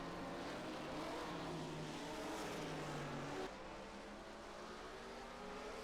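A 1965 Formula 1 race car pulls away back into a Grand Prix race, its engine revving upward in rising tones, then shifting and continuing, loud and near without speech.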